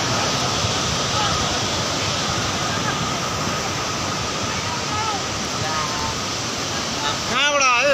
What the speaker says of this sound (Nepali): खोलाको बाडी